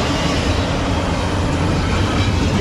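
A freight train of empty cars passes close by, led by a Ferromex EMD SD70ACe locomotive. It makes a dense, steady rumble and rattle that stays loud and unbroken.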